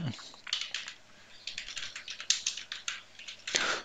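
Typing on a computer keyboard, a quick run of light, close key clicks in an irregular rhythm, quiet, with no voice over it.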